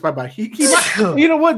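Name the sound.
sneeze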